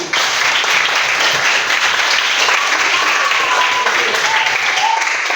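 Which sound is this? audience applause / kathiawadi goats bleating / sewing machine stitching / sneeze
audience applause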